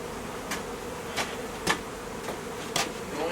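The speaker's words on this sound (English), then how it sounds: "the bees are orienting to the nuke, they're fanning" Honey bees fan and buzz at a cinder block wall of a makeshift shed, a steady dense hum with several sharp short taps or bumps spaced through it, close and without talk.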